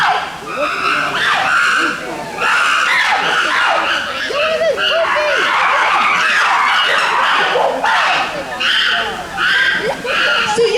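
A group of young chimpanzees screams in loud, overlapping bursts of shrill calls, sustained and chaotic for several seconds, with a person's voice talking faintly underneath.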